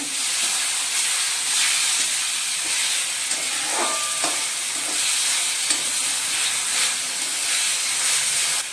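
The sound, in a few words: mashed eggplant added to fried onions and stirred in pan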